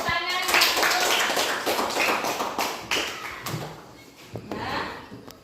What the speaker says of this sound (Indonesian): dah tepuk tangan